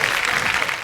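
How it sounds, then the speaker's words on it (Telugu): Brief burst of loud, dense applause from a game-show studio audience cheering the women contestants, steady and close throughout. "గట్టిగా చప్పట్లు మా శివంగులందరికీ"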